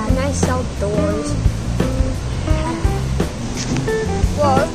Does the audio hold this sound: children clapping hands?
no